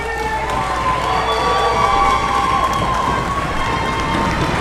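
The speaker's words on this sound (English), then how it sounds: "I think the congregation should give you an enormous round of applause" Wrestling event crowd in a hall gives a loud, sustained roar of cheering with scattered shouts, a dense wash of voices holding steady throughout.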